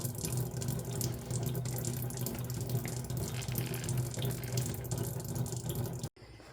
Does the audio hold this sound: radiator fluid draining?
yes